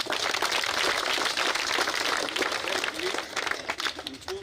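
Young children clap together at a classroom commissioning ceremony at a school, a dense, lively patter of many small hands that stays strong and steady before loosening slightly toward the end, with faint voices mixed in.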